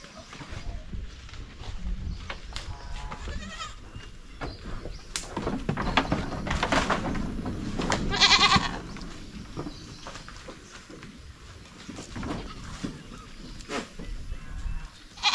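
Several male goats bleat at intervals among rustling and shuffling noises of a pen, with a louder burst of calls near the middle.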